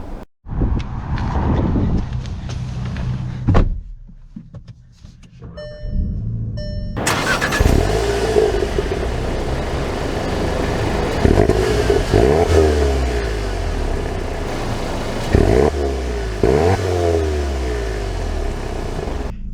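A 2023 VW Jetta GLI Autobahn with a manual gearbox starts and pulls away, its engine revving and climbing through gears, loud and close throughout with a steady rumble between rises.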